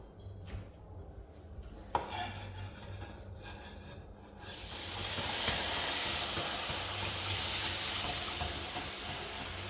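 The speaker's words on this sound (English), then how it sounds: "So now we're going to add our beef broth." Beef broth poured into a flour roux in a pan while making steak gravy: soft scraping and rubbing at first, then a steady, fairly quiet sizzling hiss that holds to the end.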